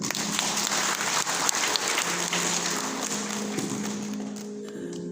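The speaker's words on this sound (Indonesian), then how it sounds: "Tepuk tangan untuk istri." An audience applauding together for the wife at a talk, a dense steady wash of clapping that holds loud for most of the stretch and then thins out at the end.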